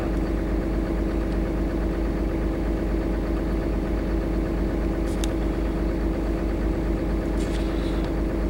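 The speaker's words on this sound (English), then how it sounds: "I know the engine's running." A Cummins diesel engine idles steadily and close by on dead batteries during an intake air heater fault check, a constant mid-pitched chug with slight knocking vibration and no voices.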